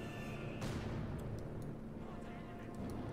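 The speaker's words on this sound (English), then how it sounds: "A lot of rockets, a lot of explosions." Rockets and explosions in the World War II strategy game Company of Heroes 2, a dense, rumbling barrage with a sharp blast early on, followed by a continuous low roar and scattered distant impacts, all fairly faint.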